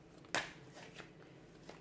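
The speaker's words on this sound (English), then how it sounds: "give the cards a shuffle" Tarot cards shuffled once in a quick riffle, a single sharp close burst of flicking paper followed by a few faint soft taps, with no talk.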